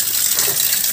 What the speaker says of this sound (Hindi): यहाँ से भी पानी निकलता है